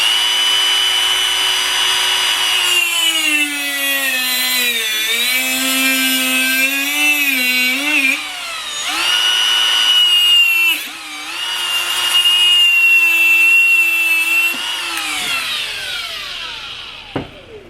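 PVC-core AN fuel hose being cut during fitting work on an LS-swapped second-gen Camaro, giving a loud, sustained tool whine whose pitch sags and recovers under load for about fifteen seconds before winding down.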